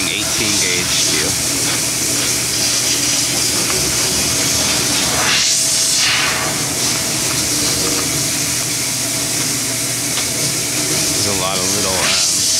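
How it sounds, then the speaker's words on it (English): A Rose Graphix 500-watt fiber laser cuts 18 gauge steel with a loud, steady hiss that holds for the whole stretch, rising briefly in places, with a person talking over it. "Right now we are cutting 18 gauge steel."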